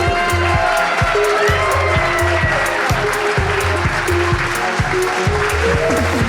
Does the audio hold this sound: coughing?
no